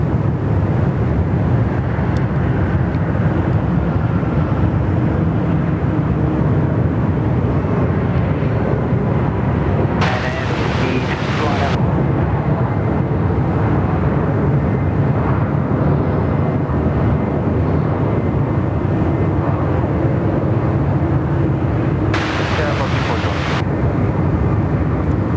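Qantas airliners landing on parallel runways at Sydney Airport, a loud sustained roar of jet engines heard from nearby, broad and steady throughout with two brief hissing bursts, with people talking over it.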